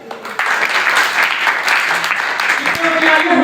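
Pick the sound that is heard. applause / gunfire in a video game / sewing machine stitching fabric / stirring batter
applause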